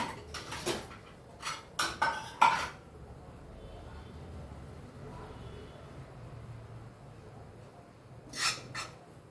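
Dishes and utensils clink as freshly cooked spinach chutney is moved into a bowl, a few quick clusters of clatter near the start and one more toward the end, with quiet kitchen background between.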